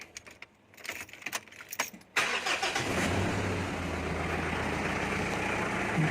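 Keys jingle briefly, then the engine of an older Isuzu D-Max pickup fitted with an aftermarket exhaust cranks and catches, settling into a deep, throaty idle that rumbles steadily close by.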